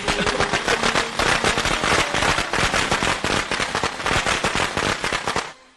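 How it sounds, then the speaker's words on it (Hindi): Firecrackers bursting in rapid, dense strings during a festive celebration, loud and continuous crackling pops for several seconds before cutting off, with no voices audible. "चलो अम्मी पटाखे फोड़ते हैं।"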